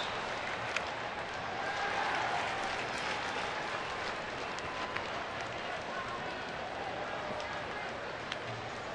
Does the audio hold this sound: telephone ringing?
no